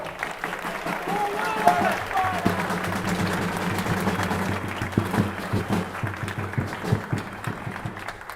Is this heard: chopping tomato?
no